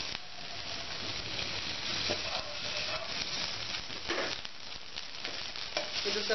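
Butter melting in a hot pan on the stove for restaurant-style tomato soup gives a steady, soft frying sizzle that holds evenly throughout, with occasional faint clinks and stirring.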